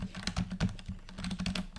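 Rapid clicks of arrow keys pressed on a computer keyboard while playing a rhythm game on Roblox, in quick uneven bursts, close and fairly quiet.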